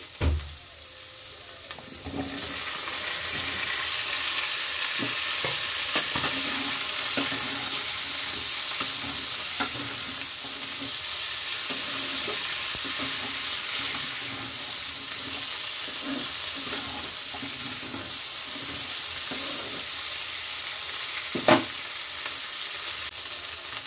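Onions and okra fry in a pan with a steady, close sizzle that runs throughout, broken by occasional stirring scrapes and a sharp clack near the end.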